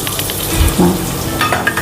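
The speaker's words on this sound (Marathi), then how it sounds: "हे मी मसाले ऑलरेडी तर रेडी केलेले आहेत तर आपण टाकतो" Ready-made spices drop into a hot pan for rajma chawal and start sizzling steadily, with a brief clink of a utensil on the pan, heard close and without talking.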